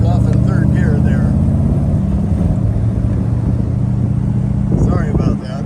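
Ferrari 250 GT California clone pulling away in third gear, a low, loud engine rumble that strains at first and settles into a steady drone, with someone talking over it.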